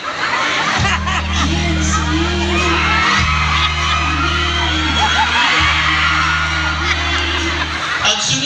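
A group of children shout, whoop and laugh together, loud and continuous, over a steady low droning tone that stops and restarts twice.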